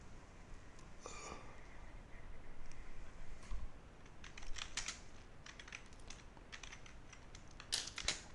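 OCaml code being typed on a computer keyboard, quiet scattered keystrokes in short bursts with pauses between, close but soft, no talking.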